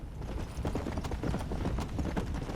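Horse hooves gallop steadily in a Red Dead Redemption: Undead Nightmare ride, a fast continuous clip-clop rhythm heard up close with no talk over it.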